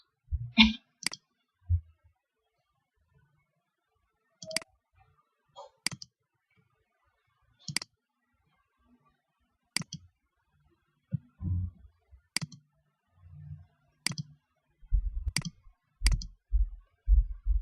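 A computer mouse clicks about ten times at irregular intervals during desktop network-analysis work, each click crisp and close against near silence, with faint low handling noises in between.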